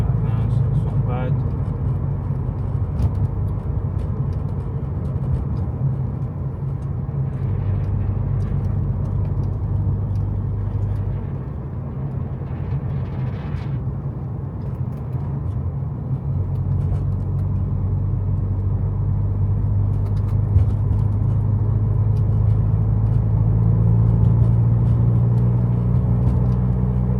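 A Mercedes 190E fitted with individual throttle bodies cruising on the road, a steady loud engine drone and rumble that swells slightly toward the end, heard from inside the car.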